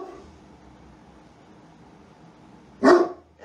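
A dog barks once loudly and suddenly near the end, with a softer follow-up yelp, after a stretch of quiet room hum.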